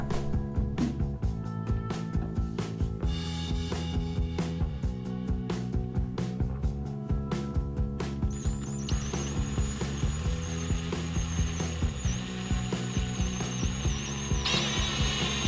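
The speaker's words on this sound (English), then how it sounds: "here I need to tap the holes half 20 to match the hood pins" Hand-tapping 1/2-20 threads into holes in a PLA plastic part held in a vise, heard as steady ratcheting and scraping tool noise with rhythmic clicks and a thin high squeal in the later half, no speech.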